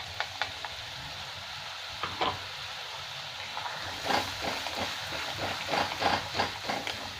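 Spice paste for doi potol fries in oil in a pan, giving a steady sizzle and hiss broken by the scrape and clatter of stirring, which grows livelier toward the end.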